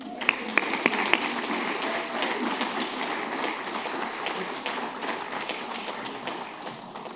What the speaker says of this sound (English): Applaud them for their exceptional skills and professionalism